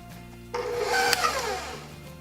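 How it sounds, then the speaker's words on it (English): An electric mixer starts abruptly on medium speed in peanut butter cheesecake filling, and its whirring motor rises in pitch and then slowly winds down over about two seconds, with no voices. "We're just gonna mix it up kind of on medium speed just until we don't see a lot of lumps anymore."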